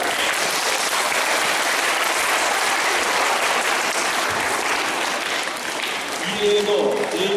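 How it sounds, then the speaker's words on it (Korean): Audience clapping steadily at the opening ceremony of a city taekwondo tournament, a broad sustained round of applause filling the hall, with an amplified voice briefly heard near the end. "감사의 박수를 부탁드립니다."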